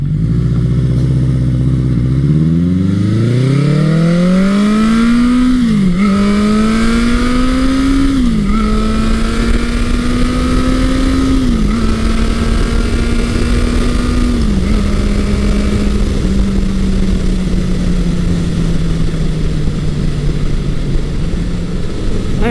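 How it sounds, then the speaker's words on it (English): A 1982 Honda CB900 Custom fitted with a Mack exhaust accelerates hard from a standstill, its close, loud engine climbing through several gear shifts, each upshift dropping the pitch, then settling into a steady cruise drone. "I am riding Honda's 1982 CB900 Custom, and it's got a Mack exhaust on it, as you just heard."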